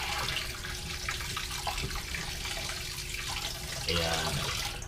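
Running tap water pours over rice being rinsed in a kitchen, a constant close hiss and splash that grows slightly louder and fuller near the end as the stream shifts; no talk over it.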